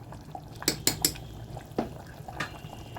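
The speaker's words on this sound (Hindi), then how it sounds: "और गरम मसाला डाल के हम इसको मिक्स कर लेंगे हल्के हाथों से।" A spoon scrapes and clinks against a pot while garam masala is stirred into a mutton and okra curry, giving a few sharp metallic knocks and a soft scrape, close and alone.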